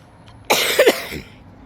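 A single short cough, close and fairly loud, in an otherwise quiet moment.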